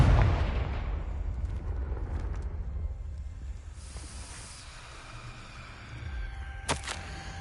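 A Confringo fire spell from Hogwarts Legacy opens with a heavy booming blast whose low rumble slowly fades, followed by a sharp crackling pop near the end.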